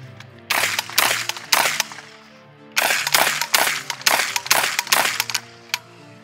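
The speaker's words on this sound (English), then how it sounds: "from the hip this time." A 12 gauge revolver shotgun is fired from the hip outdoors, loud sharp blasts in two bursts of rapid shots, each ringing out with a short echoing tail.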